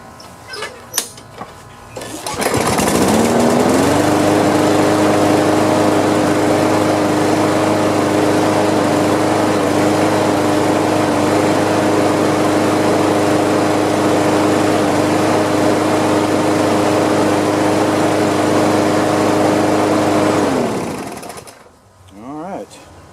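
A free lawn mower engine idles low and steady for about twenty seconds after starting, a loud continuous drone with a slight rumble, then cuts off near the end.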